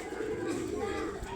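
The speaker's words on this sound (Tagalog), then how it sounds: "Kulokoy na ibon na yun." A bird coos softly a few times in a short, muffled burst outdoors, with a voice faintly underneath.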